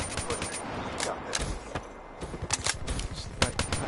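Short controlled bursts of video game gunfire, not on full auto, cracking in quick groups between pauses while someone talks over them.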